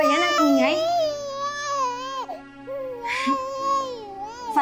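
An infant wails loudly in a home, long rising and falling cries with brief whimpering breaks, close and dominant throughout.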